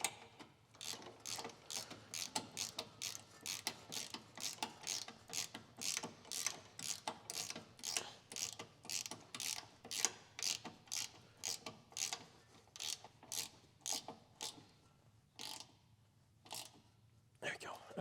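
A hand ratchet snugs down a part during front brake replacement on a Dodge Ram 1500, giving a long, steady run of close, sharp clicks in even bursts that slow and thin out near the end, with light shop noise beneath.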